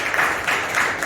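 Church congregation applauding together, a steady wash of clapping that swells slightly in waves, close and fairly loud with no voices standing out.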